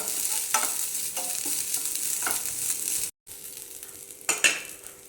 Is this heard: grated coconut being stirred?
yes